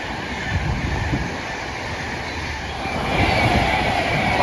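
An Avanti West Coast Pendolino electric train runs through Bletchley station with a loud, steady rumble of wheels on rail that swells toward the end, heard up close with no voices.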